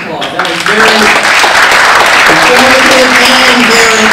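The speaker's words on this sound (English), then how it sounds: "let's give her a round of applause" Audience applause for Representative Thompson swells into a loud, steady wash of clapping from a crowd, with voices heard over it.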